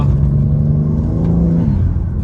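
A BMW G80 M3 with an upgraded intake pulls hard under acceleration, a loud, steady engine drone and rumble that holds close, with a slight shift in tone near the end.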